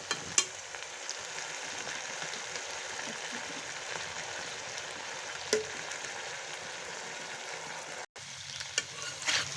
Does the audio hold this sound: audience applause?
no